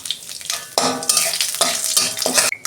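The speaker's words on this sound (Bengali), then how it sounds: "একটা শুকনো লঙ্কা, একটা তেজপাতা দিচ্ছি। অল্প জিরে দিচ্ছি।" Dry red chili, a bay leaf and cumin seeds sizzle loudly in hot oil for a dal, a steady close crackle broken by spoon-stirring scrapes.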